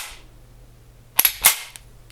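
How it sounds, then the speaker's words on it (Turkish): Two sharp metallic clacks in quick succession as a P210 pistol's steel slide is pulled and released to snap forward, with a brief bright ring afterward in a quiet room. "bu ses çekip bıraktığımda değişik bir tinleme sesi geliyor çeliğin sesi"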